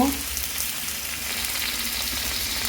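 Vegetables hit a hot pan and fry with a loud, steady, hissing sizzle that continues throughout, with a kitchen chimney hood running in the background.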